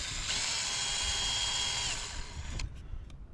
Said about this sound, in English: Drill a pilot hole, 2 pilot holes here.